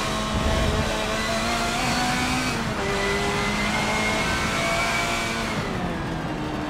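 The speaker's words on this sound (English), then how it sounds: "But some of the cars, the sounds are just unbelievable." Racing cars in a driving video game roar with steady, loud engine drones, pitch rising and falling as they rev and shift, with faint tire noise and no talk.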